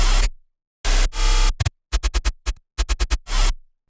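FM-synthesized noise bass with no effects applied, played as a series of harsh, broadband gritty hits: a few long sustained notes mixed with quick rhythmic stabs and gaps of silence between them.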